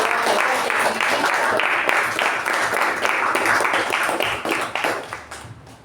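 Meeting audience gives a round of applause for the role takers, a steady burst of many hands clapping that holds, then thins and fades out near the end.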